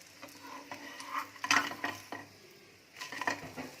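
Mint paratha being flipped and turned on a hot pan, with scraping spatula strokes and brief clattery handling over a light sizzle, close and moderately loud with no talk.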